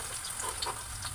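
Garlic sizzles hard in overheated cooking oil in a pan. The frying crackle is steady and close, with no talk over it.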